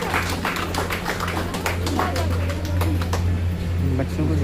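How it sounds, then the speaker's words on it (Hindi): An audience at a film ceremony applauding the star cast, a steady patter of handclaps from many people under a constant low hum, mixed with some speech. "एक बार इन सब स्टार कास्ट के ताली बजा दीजिए।"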